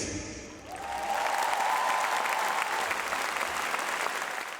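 A large audience bursts into loud, sustained applause at a concert in Stožice arena, building quickly after a brief lull and holding as a dense wash of clapping before easing slightly.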